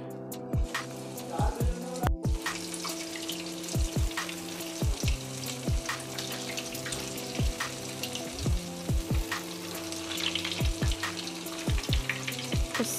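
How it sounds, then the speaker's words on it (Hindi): Dahi ke shole frying in hot oil over a low gas flame, giving a steady bubbling sizzle broken by frequent sharp crackles and pops, close and continuous with no voices. "तेल हमारा एकदम गर्म है और गैस की फ्लेम को हमने एकदम लो पे रखा हुआ है और इसे हमें लो ही पे फ्राई करना है"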